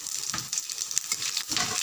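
Panch phoron spices sizzle and crackle in hot oil along with dried chillies and ginger, a close, continuous frying hiss with brief stirring pops.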